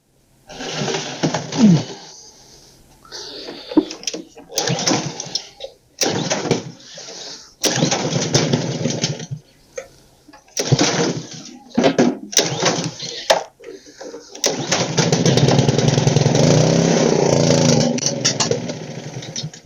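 A small engine on a freshly cleaned carburetor cranks in repeated loud pulls and sputters, then catches and runs steadily up close, its drone filling the last few seconds.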